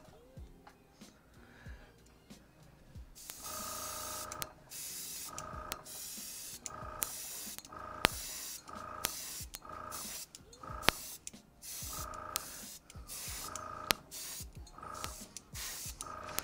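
A spray can applying blue paint to a small toy AK-74U for an action figure, heard as a series of close, loud hissing bursts in an irregular rhythm separated by short pauses.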